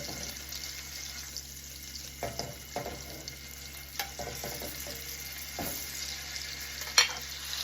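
Pork strips searing in butter and oil in a hot pan give a steady, close crackling sizzle, broken by a few soft clinks and scrapes of utensils.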